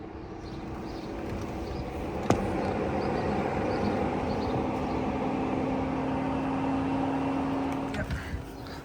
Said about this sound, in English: Actuation test, like I said, is probably electric fan.